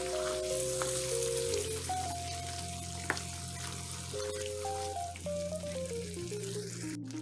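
Pasta sauce is stirred into a hot pan over browned ingredients for mac ghetti, producing a soft, steady sizzle under quiet background music.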